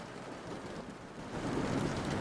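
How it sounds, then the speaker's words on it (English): Ambient rainfall with a low rumble of thunder, a constant wash of hiss that rises a little in the second half, with no one speaking. "We could do a different rain sound."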